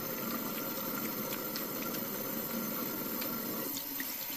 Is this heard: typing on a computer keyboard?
no